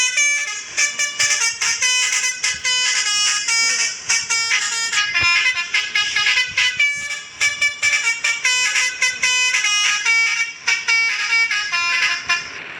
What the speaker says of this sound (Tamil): எனக்கு இந்த ஹாரன் ரொம்ப பிடிக்கும் கைஸ்.